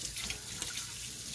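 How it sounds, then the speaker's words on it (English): Hot water streams from a kitchen tap into a sink with a soft, steady hiss and splash, close and alone for a brief moment. "Just gotta let the hot water go."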